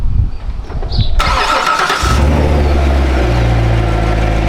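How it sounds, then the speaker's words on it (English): A C7 Corvette cranks over and fires with a loud, close roar, then drops into a steady, deep idle rumble. "Now I'm just gonna turn the car on"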